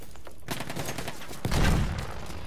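Rapid automatic gunfire in a 32-versus-32 conquest match of a video game, a dense burst that starts suddenly and swells louder partway through, with no talking over it.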